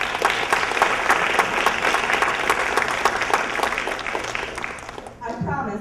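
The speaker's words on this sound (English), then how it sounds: "Can we give our teachers a round of applause?" A dinner audience applauds their teachers with loud, sustained clapping for about five seconds, dense and close, tapering off near the end of the clip.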